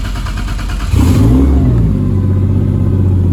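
Toyota 1JZ-GTE turbocharged inline-six swapped into a Mazda Miata, heard close and loud as the starter cranks briefly, then the engine catches with a sharp rev and settles into a steady, deep idle.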